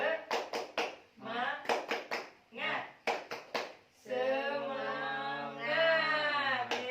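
A small group does a rhythmic 'tepuk semangat' cheer in a child-protection training session: sharp patterned claps in quick bursts alternating with chanted voices, ending in a sustained sung-out shout.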